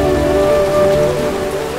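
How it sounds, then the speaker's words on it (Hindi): Heavy rain pours steadily in Muniya Tola, a dense continuous hiss that holds at an even loudness throughout, with a faint tonal background running underneath. "अरे ये मुनिया टोला का बारिश है, रुकेगा नहीं।"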